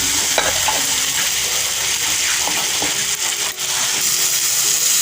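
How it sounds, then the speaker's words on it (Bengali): Chopped banana flower and potato stirred and frying in sautéed spice paste with a little sugar, for a banana flower and prawn dish; a steady close sizzle runs throughout with scraping stir sounds and small clinks. "মোচা আর আলুটা দিয়ে দিয়েছি ভালো করে কষাতে থাকবো"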